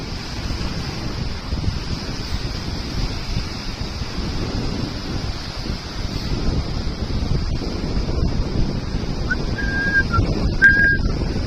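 Steady wind buffets the microphone on a beach over a calm sea under a northwest wind, with soft surf washing in beneath and a couple of faint bird calls late on.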